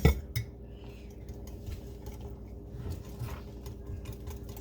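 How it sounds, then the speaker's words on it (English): Batter for a Dutch baby being whisked in a bowl, a steady scraping and clinking of the whisk against the bowl's sides that runs continuously at close range, with no talk. "whisk that in here."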